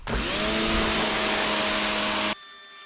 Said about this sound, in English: I thought for sure the pressure washer was really going to take care of that